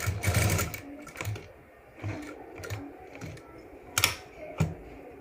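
A sewing machine stitches a fabric face mask in short bursts, several quick runs of the needle separated by pauses, close and moderately loud.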